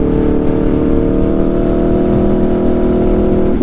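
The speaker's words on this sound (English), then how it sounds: "it sounds like a really smooth exhaust" An Aprilia RSV4 motorcycle fitted with an SC-Project CRT exhaust holds a loud, steady, smooth engine drone close by, with a layered harmonic tone that barely shifts in pitch and no talking.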